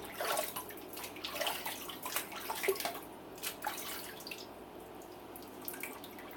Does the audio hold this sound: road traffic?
no